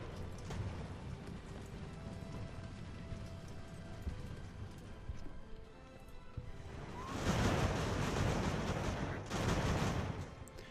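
Muffled naval battle ambience from Ultimate Admiral: Age of Sail, with a low rumbling wash and distant popping musket fire that swells into two louder bursts of gunfire and cannon shelling.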